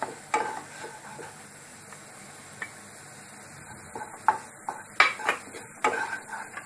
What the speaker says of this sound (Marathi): आणि मीठ घालून चांगलं परतून घेणार आहे.